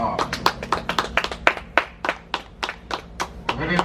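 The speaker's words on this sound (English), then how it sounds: "And a nice big round of applause as they come to that first stop." Scattered audience clapping at a Bahamas zoo bird show at Ardastra Gardens, a dozen or so distinct claps in an uneven rhythm, fairly close, with a murmur of voices and background sound underneath.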